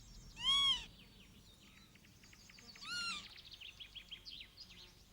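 A curlew gives two loud, clear rising-and-falling whistled calls about two seconds apart. Softer chirps and bird calls continue faintly in the background.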